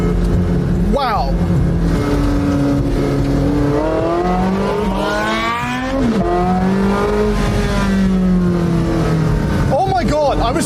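A Porsche 918 Spider with the roof down and a PDK gearbox accelerates hard in a drag race against a Ferrari SF90, its loud engine rising in pitch through several quick upshifts, heard up close.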